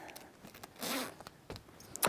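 Zipper slider pulled along a zipper during a slider replacement repair, a close raspy zip rising in the middle, with a few small fiddling clicks around it and a short second zip at the end.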